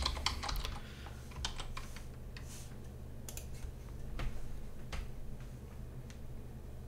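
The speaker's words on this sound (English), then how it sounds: "So you just type in your mail address and your password." Computer keyboard typing as an email address and password are entered: irregular bursts of sharp key clicks, close and moderately loud, with quiet pauses over a low steady hum; no speech.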